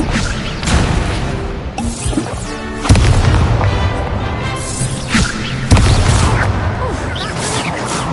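Expelliarmus and other spell casts in Hogwarts Legacy, heard as a string of loud booming magical blasts and crashing impacts, several sharp bursts spaced a few seconds apart over a rumbling game backdrop.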